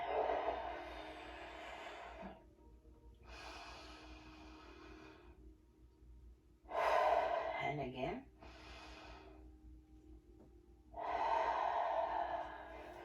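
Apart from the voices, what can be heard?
deep breathing in through nose, out through mouth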